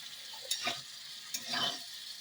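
Poppy seed paste with potato and soybean is stirred in a pan: two quiet, brief scraping strokes over a faint, low sizzle.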